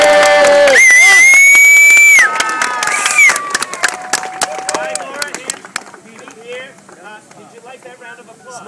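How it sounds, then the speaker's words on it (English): Street crowd in New York clapping and cheering on cue for a performer, a loud burst of whoops and applause that swells then thins into scattered claps and chatter, with voices calling out over it. "when I say go, everybody will applaud for you"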